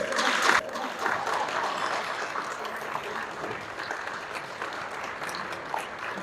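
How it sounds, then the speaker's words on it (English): Audience at a city councillor's election campaign event applauds to welcome him, a dense sustained wash of clapping that starts with a louder burst and stays steady throughout. "Let us stand and applaud to welcome Mr. Josh Morgan"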